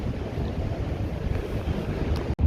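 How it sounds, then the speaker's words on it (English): Big ocean waves crash on the coast at Cascais, a constant heavy roar of surf mixed with wind buffeting the microphone, with one brief dropout near the end. "the waves, when they arrive here, they had nothing, no land"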